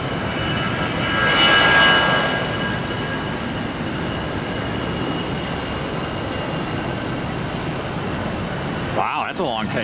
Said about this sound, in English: that's a long takeoff, all things considered